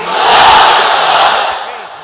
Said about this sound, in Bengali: এবার সবাই মিলে তিনটা, এক একটা তাকবীরে যাতে এই প্যান্ডেল কেঁপে ওঠে।